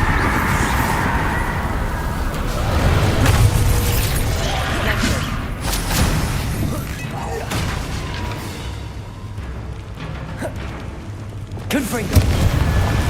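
Bombarda spell blasts in the Hogwarts Legacy video game, with heavy booming explosions and rumbling debris rolling through the scene at a loud, close level, mixed with shouted speech and game effects.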